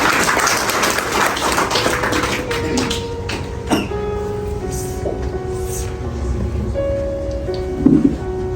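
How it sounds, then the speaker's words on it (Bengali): A church congregation claps hands together in a dense, steady patter of applause that continues for several seconds, with a few louder thumps and murmuring beneath it. "আসুন আমরা জোরে হাতে তালি দেই"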